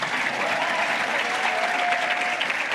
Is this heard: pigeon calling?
no